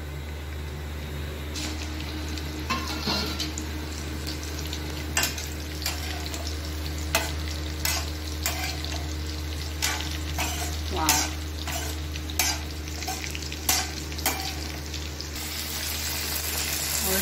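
Asafoetida, cumin and green chili fry in hot oil in a pan, giving a steady sizzle with repeated sharp scrapes and clicks of a spoon stirring against the metal, no talk.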